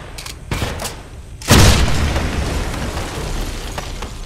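A grenade explodes in the video game Wolfenstein, inside an SS headquarters level: faint thuds come first, then a sudden loud, close boom at about one and a half seconds that rumbles and decays into lingering noise.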